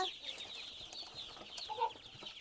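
Young chicks and ducklings peeping in a prepared pen, a quick scatter of thin, high chirps repeated rapidly and fairly faint, with no voices over them.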